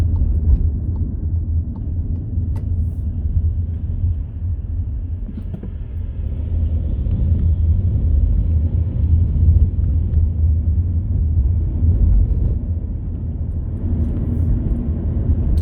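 Inside an automatic car driving from Dagenham to London, a steady low road and engine rumble fills the cabin without pause, loud and even, with occasional light knocks and no talking.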